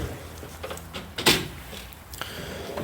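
A Snap-on tool box drawer slides open with a short rattling scrape, followed by a sharp metallic clack, amid faint background clatter.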